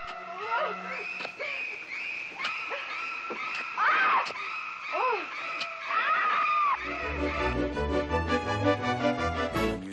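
A woman's shrill, repeated screams from a famous film shower scene, sharp cries over dramatic orchestral music that swells loudly toward the end.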